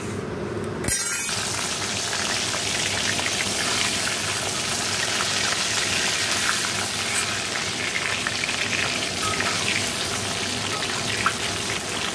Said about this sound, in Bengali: এর ভেতরেই ডিমগুলো দিয়ে ভেজে নেবো